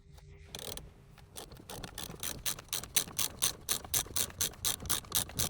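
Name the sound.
ratcheting wrench turning steering wheel puller center screw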